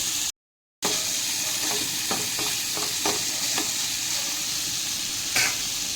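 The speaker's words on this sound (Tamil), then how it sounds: "பன்னீர் துண்டுகளெல்லாம் சேர்த்து ஃப்ரை பண்ணிக்கலாம்" Paneer pieces fry in a light coating of ghee for a paneer coconut-milk pulao. Close, steady sizzling runs throughout, with a few soft scraping stirs and one brief dropout near the start, and nobody speaks.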